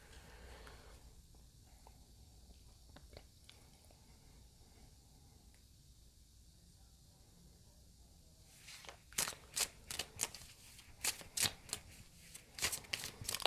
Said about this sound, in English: I'm just shuffling cards